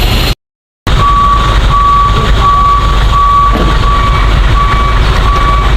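A heavily loaded Canter truck with a broken axle, stuck in dense traffic on a very steep incline. Its loud, steady engine rumble runs throughout, and a thin, regularly repeating warning beep sounds over it after a brief dropout at the start.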